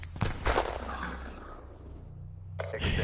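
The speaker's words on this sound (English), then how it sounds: "Man shooting." Video game gunfire: a few sharp, loud shots crack near the start, followed by a quieter stretch of ambient battle noise and electronic tones, then another burst of firing near the end.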